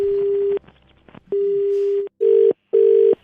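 A telephone call placed for a prank gives out a run of loud, steady electronic tones: two long beeps separated by a quiet gap, then two shorter bursts in quick succession, with no talking.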